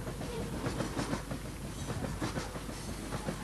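A train runs steadily on its rails, a continuous broadband rumble with a faint repeating clickety-clack and no voices.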